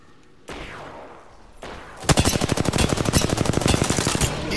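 Automatic gunfire in Apex Legends, a rapid, loud burst of evenly spaced shots hammering for over two seconds, preceded by a couple of whooshing swells of game noise.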